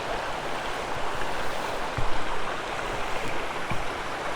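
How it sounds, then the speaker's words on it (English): A river running along a farm campsite at Seathwaite Farm, a steady broad rushing of flowing water with small splashes and gurgles rising out of the wash, constant and fairly close, with no voices. "this is a river that runs all the way along the farm in both directions"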